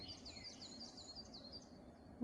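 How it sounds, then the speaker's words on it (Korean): Birds calling and singing in Danyang forest on a misty spring dawn, a thin string of repeated high chirps over a steady low murmur of background noise, faint and distant, with no talk. "야 새소리 봐라."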